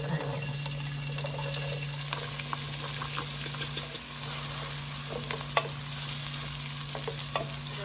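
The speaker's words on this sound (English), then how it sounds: "we're going to saute 1 medium onion" A medium onion sautés in a pot after bacon has been cooked out, giving a steady close sizzle with occasional stirring clicks and scrapes and a faint low hum beneath.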